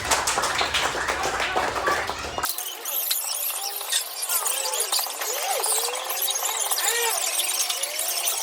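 Students in a classroom applaud a group with a brief burst of rapid, close clapping. The clapping cuts off after a couple of seconds and leads into high, lively chatter and voices.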